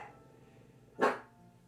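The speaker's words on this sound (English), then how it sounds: "And now the dogs are gonna start barking." Dogs barking at night in a snowy neighbourhood: a single short bark, moderately loud at a middle distance, over a low steady background hum.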